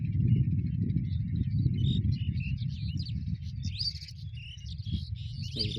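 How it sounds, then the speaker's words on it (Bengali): Migratory birds feeding on snails in a field call continuously, many overlapping chirps and whistles from a flock at middle distance over a low, steady rumble of wind or background noise. "প্রচুর অতিথি পাখি। এই যে দেখুন শামুকগুলো খাচ্ছে।"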